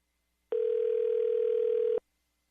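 Telephone line tone heard while a call is being placed during a radio show segment, one steady continuous beep lasting about a second and a half after a short silence, clean and alone.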